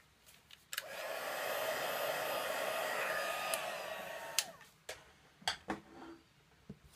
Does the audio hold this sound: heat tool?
yes